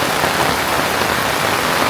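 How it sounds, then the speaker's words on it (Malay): Heavy rain pours down at a campsite with tents and a sunshade, a dense, loud, continuous hiss of drops without pause. "Agak lebat agak hujan kali ni."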